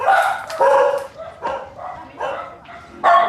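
Several dogs bark in a rapid run of loud, close yaps and bow-wows, with about six sharp bursts in quick succession and no talking over them.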